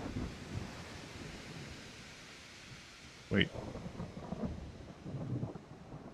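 A thunderstorm at sea in the naval game Ultimate Admiral Dreadnoughts: rain and wind wash steadily, one sharp thunder crack cuts through, and a low roll follows, with a brief spoken word over it.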